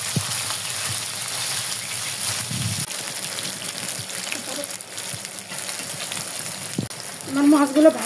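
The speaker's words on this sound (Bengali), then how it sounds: "আমার মাছগুলো ভাজা হয়ে গেছে" River chewa fish rubbed with salt and turmeric fry in a hot pan, a continuous close sizzle with occasional knocks and scrapes as pieces are turned, growing louder and bubblier toward the end.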